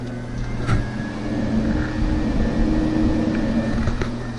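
Car cooling fans running steadily on a chassis during wiring and fuse panel installation, a constant low whirring drone with a faint electrical hum, close and continuous with no talking.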